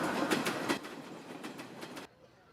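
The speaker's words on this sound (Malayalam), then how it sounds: "പക്ഷേ ട്രെയിൻ ക്രോസ് ചെയ്ത ശബ്ദം കേട്ടു." A passing train clatters in a steady, rhythmic clickety-clack, heard as if over a phone call. The loud rolling noise fills about two seconds, then cuts off sharply to near silence.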